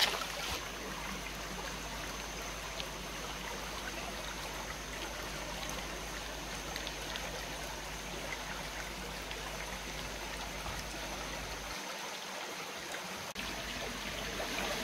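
Continuous babble of a small forest stream flowing over rocks, an even steady wash of water with faint droplet detail, close and alone with no voices.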